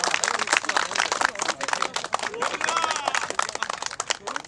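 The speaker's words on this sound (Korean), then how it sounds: "여러분 박수 부탁드리겠습니다" Attendees at a Korean fishing club's season-opening ancestral rite break into brisk, crowded clapping that continues throughout, with voices mixed in.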